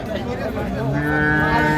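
An improved-breed dairy cow at a Kishoreganj farm with calves lets out one long, loud, close moo that holds steady and swells slightly toward the end.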